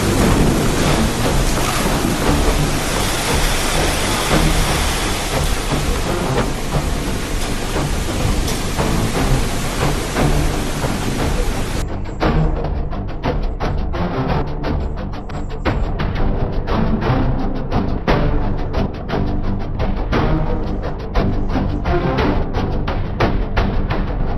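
A violent storm roars with heavy rain and wind, a dense, loud wash of noise that briefly dulls midway before continuing with crackling bursts.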